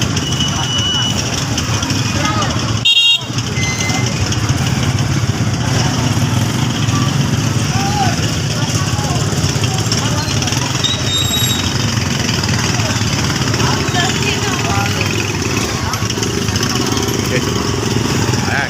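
Busy street traffic rumbles with a steady hum of idling engines and passing motorcycles, continuous and fairly loud, with people talking over it.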